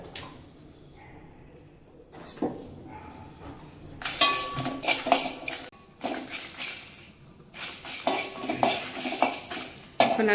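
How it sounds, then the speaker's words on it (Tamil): Red chillies and whole coriander seeds are dry roasted in a pan without oil, the spoon scraping and clinking against the metal in bursts separated by quiet gaps, with faint crackling underneath. "மூணு வரமிளகா ஒரு ஒன்றரை ஸ்பூன் கொத்தமல்லி முழு கொத்தமல்லி அது ரெண்டையும் சேர்த்து லைட்டாக வறுத்துக்குவோம்"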